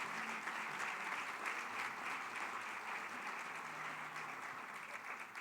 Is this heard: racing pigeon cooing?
no